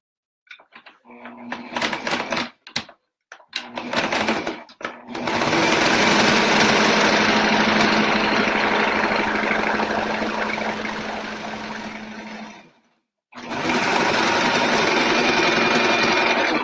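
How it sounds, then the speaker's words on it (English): A sewing machine stitches through three layers of batting and two layers of fabric for an oven mitt: a few short starts and stops, then a long steady whirring run, a brief pause, and another sustained run, close and loud. "Sewing through three layers of the batting and two layers of fabric."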